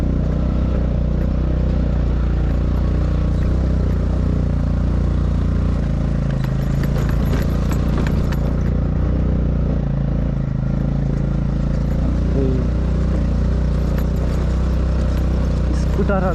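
A 7.5-year-old Honda Dio scooter ridden over a rough, rocky off-road track, its engine droning steadily and loudly with rattles and jolts throughout, while people talk over it.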